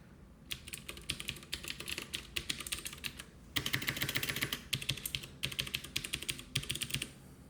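Rapid, clicky typing on a loud mechanical keyboard with blue MX switches, bursts of crisp keystrokes with brief pauses between runs, close and alone.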